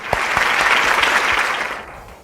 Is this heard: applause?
yes